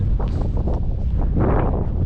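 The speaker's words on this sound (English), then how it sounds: "It's really windy." Strong wind on the coast of Dirk Hartog Island buffets the microphone with loud, continuous low rumbling and gusty roaring throughout.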